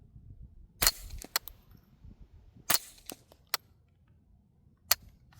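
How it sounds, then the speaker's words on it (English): Sharp reports from a TriStar KR22 .22LR rifle with rounds thumping into a dirt berm: two clustered bursts of three or four loud, crisp cracks near 0.8 s and 2.7 s, then a single shot near 5 s, over quiet outdoor background. "The impact against the berm is every bit as loud or louder than the action."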